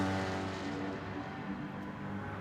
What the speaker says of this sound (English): I'm not a fan of the exhaust note to these Caymans